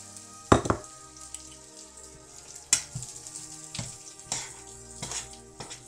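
Quartered mushrooms dropped into hot oil, sharp sizzling bursts as pieces land, followed by a steady crackling fry with intermittent spatters.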